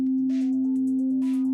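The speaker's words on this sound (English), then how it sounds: "a sine wave is the simplest sound" A pure, steady sine tone holds one unwavering pitch from start to finish, loud and clean, while faint synth notes step up and down quietly beneath it.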